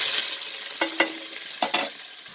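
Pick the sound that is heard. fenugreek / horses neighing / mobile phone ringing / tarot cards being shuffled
fenugreek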